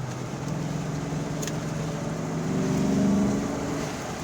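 A 1994 Ford Mustang Cobra driving: a steady low engine hum from inside the car, with the note shifting and swelling partway through as a gear changes.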